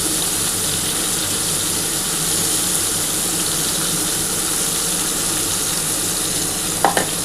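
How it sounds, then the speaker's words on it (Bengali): Dried red chilli and nigella seeds crackle and sizzle in a little hot oil, a steady loud frying hiss throughout with a brief clatter near the end. "আমি এই তেলের মধ্যে একটা শুকনো লঙ্কা আর কালো জিরে ফোড়ন দেবো"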